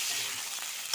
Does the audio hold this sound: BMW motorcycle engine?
no